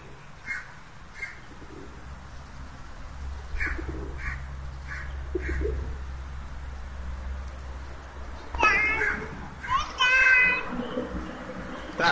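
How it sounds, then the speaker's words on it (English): Pigeons cooing and fluttering while being fed outdoors, soft repeated coos close by, with children's and adults' voices chattering over them. "Thank you for feeding the pigeons."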